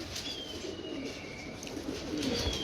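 Domestic pigeons coo softly in low, rounded calls against a faint background hiss, fairly quiet and close, with no one speaking.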